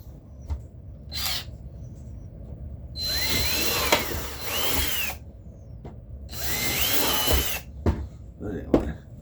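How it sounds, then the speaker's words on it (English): A power drill bores holes into a brand new helmet in two long whining bursts, with short clicks and knocks between them, close and loud. "Drilling holes in my brand new helmet."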